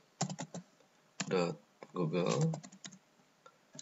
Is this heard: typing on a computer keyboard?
yes